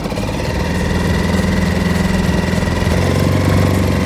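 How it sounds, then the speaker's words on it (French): Suzuki 6 hp four-stroke outboard motor running steadily on a Cabesto 2.70 inflatable dinghy, a loud even engine drone with a low hum that holds constant the whole time, no voices. "Comme vous pouvez le voir, c'est un moteur qui n'est pas très bruyant."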